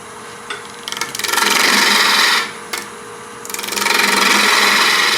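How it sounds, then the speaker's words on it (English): A wood lathe turning tool cuts a wooden candy dish with slow, light finishing passes, giving a loud, close rasping hiss in two long sustained cuts broken by a short pause and a brief tap. "I'm taking these last cuts a little bit more careful and a little slow, and smaller cuts, just to kind of see how well the wood is cutting"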